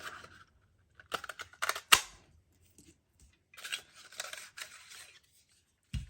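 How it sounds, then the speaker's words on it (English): Scissors snip a paper scrap from a journaling card in short, crisp bursts of slicing and rustling close by, with a sharp click of the blades near the middle and quiet gaps between cuts; no talking. "I need to cut that scrap off"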